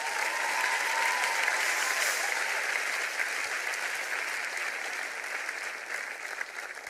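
A church congregation at a French-language Sunday service applauds in steady, sustained clapping, loud at first and slowly easing off over several seconds, with no voice over it.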